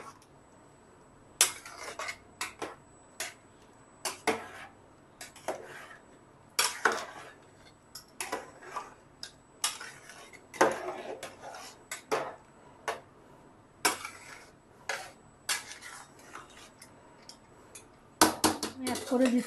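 A spoon scrapes and knocks against a pot while egg khichuri is stirred, irregular close clinks and taps spaced over time with quiet gaps between.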